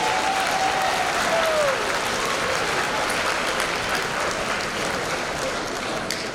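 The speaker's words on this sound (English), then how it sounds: "One more round of applause for all of our new faculty." Sustained clapping from a school assembly audience on Founders Day, a dense, even wash of applause lasting the whole stretch, with a brief faint vocal tone near the start.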